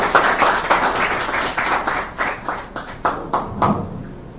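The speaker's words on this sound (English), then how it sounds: "Round of applause." A small group claps steadily for a few seconds, the applause thinning out and fading toward the end.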